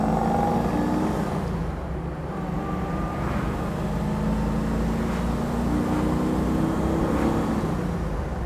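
A 1963 Oldsmobile Cutlass F85 engine drones loudly and continuously as it climbs through the gears, the pitch rising and falling with each shift, heard from inside or close to the moving car.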